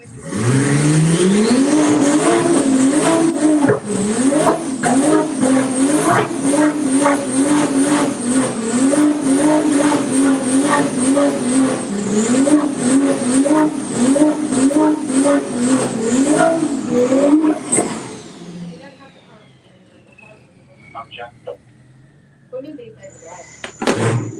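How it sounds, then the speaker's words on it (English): A BMW M4 race car launches hard at a run-what-you-brung drag event, its engine roaring loud and close and climbing through several gear shifts for about seventeen seconds before fading away. Voices carry over the engine. "the BMW M4 from GND Motors"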